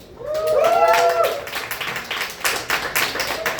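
Audience at a comedy show in a tap house clapping for a drop-in comedian, scattered claps building into a patter over a few seconds, heard under a speaker's voice near the start.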